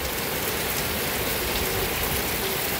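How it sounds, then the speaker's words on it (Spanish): Steady rain falls outside a house, a dense, even hiss of drops on surfaces with no variation or pauses, moderately loud and uninterrupted by voices. "Nos está lloviendo, miren."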